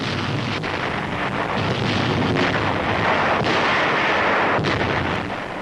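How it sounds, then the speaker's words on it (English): RAF Lancaster bombs, from 500-pounders to blockbusters, exploding over the industrial city of Pforzheim in a wartime newsreel: a dense, continuous roar of blasts and rumbling fire with a few sharper thuds, loud and unbroken throughout, no voices. "RAF Lancasters unload everything from 500-pounders to blockbusters on Pforzheim"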